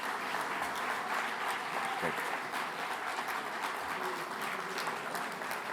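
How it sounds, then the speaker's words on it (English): A conference audience gives a long round of applause, steady dense clapping from a large crowd heard at a moderate distance with no voices over it. "They all deserve a very big round of applause."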